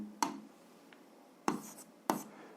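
Chalk or pen strokes writing out an algebra solution for a seventh-grade exercise, three sharp separate taps with short scratchy tails, close and fairly quiet in a hushed room.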